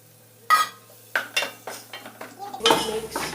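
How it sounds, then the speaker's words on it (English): Tomatoes are added to a pan and stirred while cooking fried rice, a series of close metallic spoon scrapes and clinks against the pan in an uneven rhythm. "Now I am adding tomatoes."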